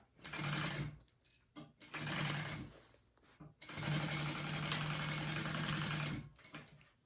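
A sewing machine stitches a tote bag with a 3/8 seam. It runs in loud, close bursts of fast whirring with short pauses between them, and no one speaks.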